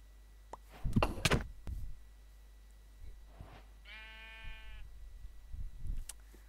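Sheep bleat in a farming video game, one clear drawn-out bleat midway, with thumping, clattering game sounds before and after and no voices.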